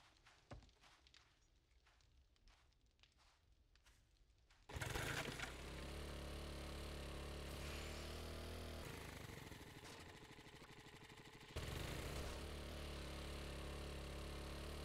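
A minibike engine in the video game 7 Days to Die starts up and then runs as a loud, steady buzzing drone with a lawnmower-like tone, dipping slightly before revving up again near the end. Faint footsteps and clicks come before it.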